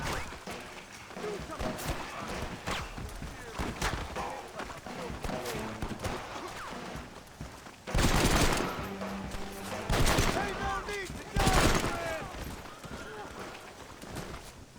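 Federal-issue gun fire rings out in Red Dead Redemption amid a chaotic western shootout: rapid, loud overlapping shots, with several heavy bursts standing out. Horse hooves and movement sound alongside, and voices talk throughout.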